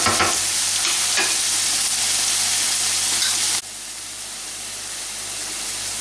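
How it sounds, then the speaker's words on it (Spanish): Vegetables for spiced couscous are stir-fried in a pan, making a loud, steady sizzle and hiss with a few scraping stir sounds before the frying drops a little quieter, with no voices. "Les vamos a dar una vueltecita rápida."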